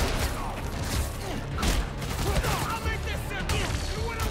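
Rapid bursts of enemy gunfire in the Spider-Man Miles Morales video game, a dense rattling barrage with game combat effects layered under it, steady and fairly loud throughout.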